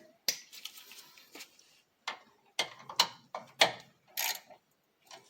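Small metal nuts being hand-tightened onto a replacement Land Rover LR3 height sensor, giving a quiet series of close, irregular clicks and ticks in short bursts with brief pauses between them.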